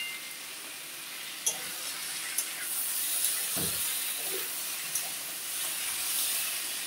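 Lentil dumplings (bori) fry among mixed vegetables for shukto, a steady sizzling hiss with occasional faint clinks and stirring as the pan keeps frying throughout.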